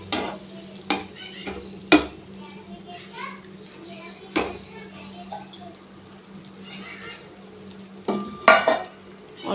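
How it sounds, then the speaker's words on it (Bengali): Water poured into a hot frying pan while making a spicy small-carp fish curry, with stirring clatter, utensil knocks and a steady sizzle running through, plus brief louder bursts near the start and end. "তার জন্য অল্প জল দিলাম।"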